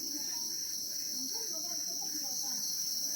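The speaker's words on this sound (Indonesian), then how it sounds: "jangkrik ada 2 jenis, ada yang namanya jangkrik kalung dan ada namanya jangkrik alam seliring" Crickets at a cricket farm in Lepang, Klungkung, Bali, make a dense, continuous high-pitched chirring drone that stays loud and steady throughout, with faint low murmuring beneath.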